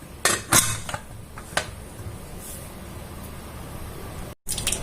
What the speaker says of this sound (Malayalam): നമുക്ക് കുക്കർ മൂടി വെക്കാം.